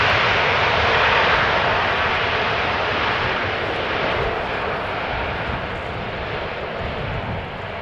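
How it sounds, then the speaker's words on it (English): Airbus A330 roaring down the runway on landing with thrust reversers deployed, a loud, broad, steady jet rush that slowly fades as the aircraft decelerates. "Reversers being used on the A330."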